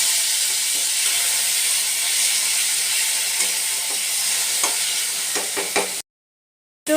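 Ginger paste, green chili paste and chopped tomato fry in a pan with cinnamon and cloves, giving a steady close sizzle with a few scraping stir clicks near the end before a sudden cutoff to silence.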